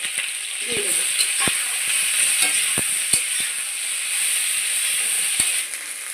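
Vegetables sizzle loudly in hot oil in a pan with tomato, ginger and green chili added for a Bengali katla fish curry, a steady bright hiss punctuated by sharp clicks and scrapes of stirring.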